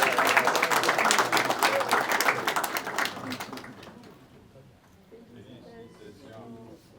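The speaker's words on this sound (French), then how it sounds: "Allez, on va l'applaudir bien fort." Graduates being applauded at a July 2025 graduation ceremony: a loud burst of crowd clapping that fades over several seconds, leaving softer murmuring and a voice near the end.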